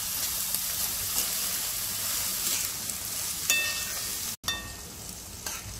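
Val dal masala is stirred in a pan over a low gas flame, a continuous sizzle with soft scraping strokes and a couple of sharp metallic clinks near the end, close and unbroken by talk.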